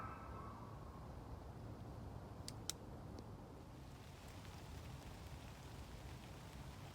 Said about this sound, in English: You can hear the rain. You can actually see it landing on the tarp.